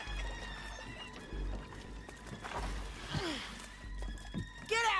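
A horse in Red Dead Redemption 2 whinnies near the end, following scattered hoof clops and shuffling movement, heard under and between people talking.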